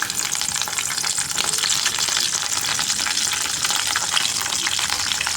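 Steady, loud sizzling and crackling of curry leaves frying in hot oil, a bright hiss with no voices.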